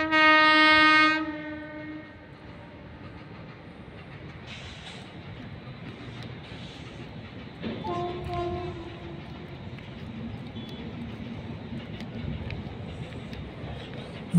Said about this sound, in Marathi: मोठ्या प्रमाणात इथे रेल्वेची वाहतूक सदैव चालू असते